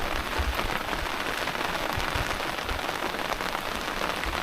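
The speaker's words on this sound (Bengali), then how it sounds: "বাবা এমন সময় বৃষ্টিটা আসলো" Steady rain falling on a river bank, a dense patter of many drops hitting the ground and water, close and continuous with no voices.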